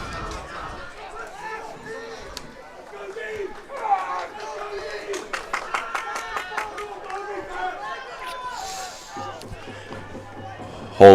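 Crowd cheering at a varsity high school football game, Episcopal versus Landon, a broad stadium roar with shouting and chatter rising and falling across the clip, sharper bursts midway, and a brief loud thump at the very end.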